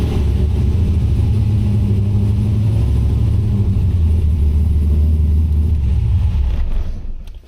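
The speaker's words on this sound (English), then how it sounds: "Starts good, but I went too high on the throttle." An LS V8-swapped Mazda RX-7 idles fast and loud after starting, holding a steady deep rumble with slight throttle fluctuations before the engine is shut off at the end; no one speaks.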